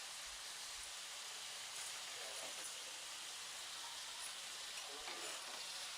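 Ginger garlic paste sizzles and fries in a pan for an Andhra village-style chicken curry, giving a steady, faint hiss with a few soft stirring knocks and no voices.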